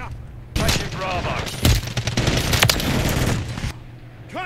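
Rapid gunfire crackles through a video game battle, a dense burst of automatic shots and booms lasting a few seconds, loud and close, with a voice calling out over it.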